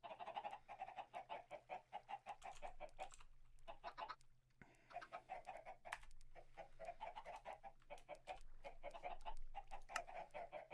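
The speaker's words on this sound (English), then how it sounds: "Oh my god, these chickens are loud." Video game chickens cluck in rapid, repeated bursts, loud and close, with brief pauses between flurries and a low steady hum underneath.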